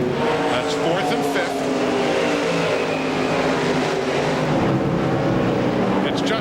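NASCAR Craftsman trucks race at Flemington in 1997, their engines roaring loudly and continuously as a pack, with commentary running over the noise.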